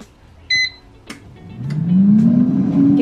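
A Proscenic T21 air fryer gives a short electronic beep as its menu is set, followed by a click and a rising fan whir that swells and holds steady, close and fairly loud.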